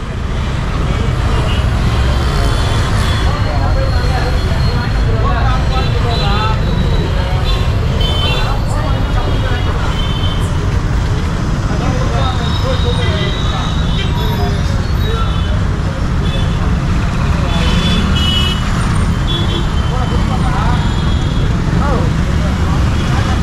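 Busy road traffic with buses, cars and trucks passing: a loud, constant engine rumble and roar with the hum of many vehicles and background chatter, while people talk nearby throughout.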